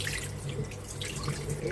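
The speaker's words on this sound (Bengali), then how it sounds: "জামগুলো আমি ভালো করে ধুয়ে নিচ্ছি" Java plum fruits rinsed under running tap water make a close, steady splashing and trickling sound for a brief moment.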